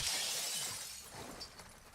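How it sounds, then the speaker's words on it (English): Glass shattering in the Call of Duty DMZ shooter game, a crisp breaking burst of fragments at the start that trails off into scattered tinkling and game ambience, fairly close. "I broke glass."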